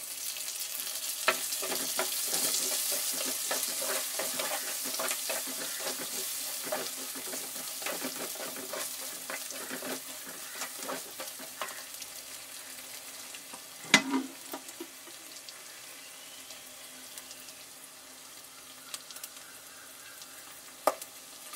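Onion and curry leaves sautéing in a pan for a village-style liver dry roast, a steady loud sizzle with scattered crackles and a few sharp clicks of stirring, fading slightly in the second half.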